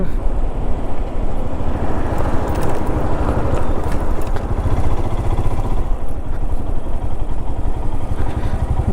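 A motorcycle exhaust rumbles steadily from fairly close by on a narrow, busy service road, with traffic noise and wind around it.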